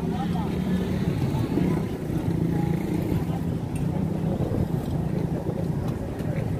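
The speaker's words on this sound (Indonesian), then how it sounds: "Kapal masih mencari posisi untuk sandar" The ship Cantika Lestari manoeuvres to dock at Larantuka harbour, giving a steady low rumble of engine and water with wind buffeting the microphone throughout, with voices faintly in the background.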